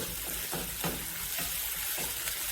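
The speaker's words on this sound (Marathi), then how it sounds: "आता हे पण आपण छान भाजून घेऊया लसणाचा कच्चेपणा जाईल इतकं भाजायचं" Dry coconut and garlic paste roast in oil in a pan, giving a soft continuous sizzle with a few faint stirring scrapes, close but quiet.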